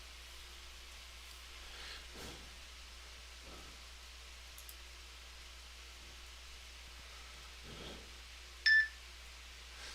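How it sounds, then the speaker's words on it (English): A lightning detector beeps once loudly during a severe weather watch, warning of lightning within 40 miles; the short tone stands out over a faint, steady background hiss with a few soft low thumps. "that loud beep is my lightning detector, saying there's lightning within 40 miles."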